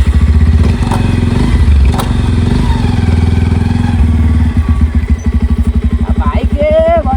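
A motorcycle engine running close by, loud and steady, its low throb pulsing rapidly toward the end as it revs, with clattering thumps and scraping over it.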